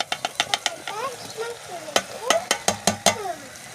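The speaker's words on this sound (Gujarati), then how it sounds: "હવે આપણે નાખી દઈશું બટેટા." Potatoes go into a hot pan and sizzle while a utensil stirs them, giving sharp scraping clicks over the frying hiss, up close, as a summer potato dish is cooked at home.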